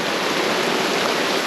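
Heavy rain and a rushing waterfall combine into a dense, constant roar, loud and close, with no pauses or talk.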